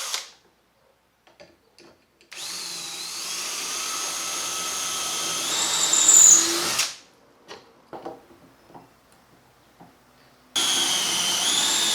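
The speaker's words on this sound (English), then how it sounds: "I can drill the dowel holes." A power drill whines steadily as it bores dowel holes into wood through a dowel jig, pitch shifting under load, stops, then starts again after a quiet gap with small handling clicks.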